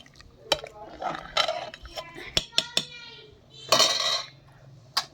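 Khichuri ingredients with turmeric are stirred in a pot, sharp metallic clanks and scrapes of a spoon against the pot coming in irregular bursts while a person talks between them.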